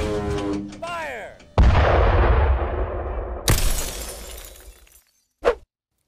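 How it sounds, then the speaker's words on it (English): A tank cannon fires a shell with a sudden, heavy boom that rolls off into a long decaying rumble, then a sharp crash follows, with a short burst of voice earlier and a brief bang near the end. "You can even hit them with a tank shell."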